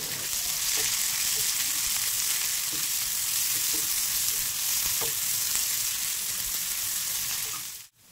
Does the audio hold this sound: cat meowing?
no